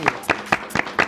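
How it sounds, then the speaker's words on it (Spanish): Five spaced, crisp claps over about a second at a Mexican talk-show panel on HIV, sounding like a single person or small group clapping nearby rather than a full crowd. "Un aplauso."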